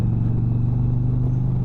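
Indian Challenger Dark Horse motorcycle engine braking on a ride, a loud, close, steady low engine rumble with rhythmic pulsing exhaust throb, no talking.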